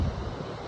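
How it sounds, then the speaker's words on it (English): Strong, cold wind buffets the microphone at Turner Falls, a 77-foot waterfall in Oklahoma, a steady low roaring rush with no voices. "It's really windy and kind of cold"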